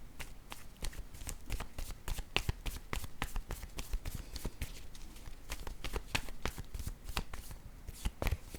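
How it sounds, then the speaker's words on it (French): Tarot cards laid down and turned over on a table, a steady run of crisp, close slaps and flicks repeating every half second or so, with no voices. "je vais déposer une autre carte sur Merveilleux. Je vais retourner celle-ci."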